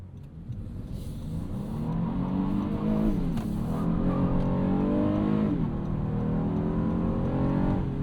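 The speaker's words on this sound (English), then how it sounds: "Beating traffic there, spinning through second gear." A 2026 Honda Odyssey minivan's 3.5L VTEC engine pulls hard through the gears on a morning commute, revving up in steady sweeps with a drop at each shift, loud and close throughout.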